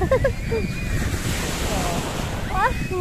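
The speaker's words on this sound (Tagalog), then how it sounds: "Ganun ang mga alon." Steady rush of waves washing on the shore at Lung Mei Beach, Tai Po, Hong Kong, with wind noise buffeting the microphone, a faint voice briefly audible at the start and end.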